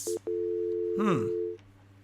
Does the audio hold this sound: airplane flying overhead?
no